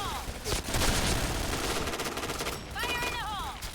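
Rapid automatic gunfire from an AK rifle in the online shooter Point Blank, a dense continuous burst of shots with some game sound effects and a faint voice under it.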